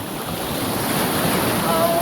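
Ocean waves wash at the shore at Karaikal, a steady broad surf hiss mixed with wind buffeting the microphone, continuous and fairly loud with no talk.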